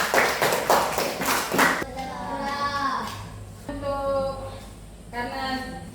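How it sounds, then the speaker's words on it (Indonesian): A classroom of primary school pupils gives group 1 a short burst of brisk applause, then children's voices chatter and call out once the clapping stops. "Berikan aplaus dulu untuk kelompok 1"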